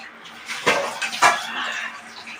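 A kadai pan rinsed with water before frying, with brief close splashing and clanking of metal over a couple of seconds, two louder bursts of swishing water near the start.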